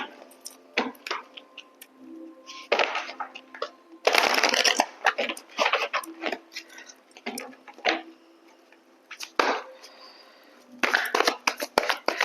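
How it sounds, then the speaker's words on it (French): Oracle cards being shuffled for an intuitive guidance reading, giving repeated bursts of crisp riffling and flicking card sounds with short pauses between them, close and clear, with no talk. "On va prendre quelques cartes avec Monsieur Béline"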